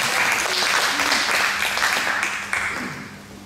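A church congregation bursts into warm, sustained applause that fills the room. The clapping slowly fades toward the end, and a voice is faintly heard under it.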